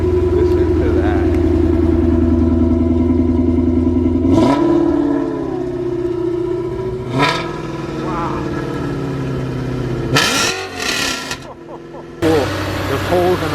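A supercharged BMW M5 V8 swapped into a 1994 BMW M8 E31 with a loud exhaust idles with a deep, steady rumble up close, then blips and settles while people talk over it.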